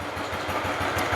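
A small engine runs at a steady speed, giving an even, rapid chugging beat with a slight clattery edge, close and moderately loud throughout.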